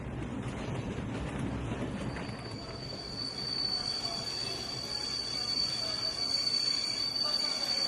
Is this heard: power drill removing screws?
no